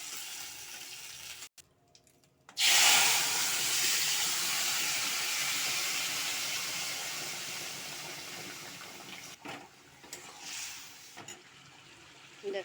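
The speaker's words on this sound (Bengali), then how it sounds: "দেখো ফোড়নে দিয়ে দিয়েছি জিরে আর কাঁচা লঙ্কা বাটা" Cumin seeds and green chilli paste hit hot oil for tempering in a chicken curry, setting off a loud, sudden hiss that keeps sizzling steadily and slowly fades, with a few clinks of a utensil near the end.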